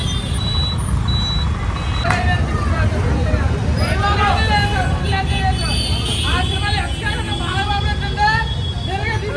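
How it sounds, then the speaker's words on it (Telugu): Busy road traffic outside a cinema hall, with a reversing truck's repeated beeps sounding clearly over a constant engine rumble, and a crowd's babble plus brief horn-like tones scattered throughout. "బట్ ఇక్కడికి వచ్చేటప్పుడు చూడండి ఎంత ట్రాఫిక్ ఉందో"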